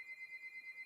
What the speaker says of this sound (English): Sorry if you can hear that noise in the background. It's the buzzer.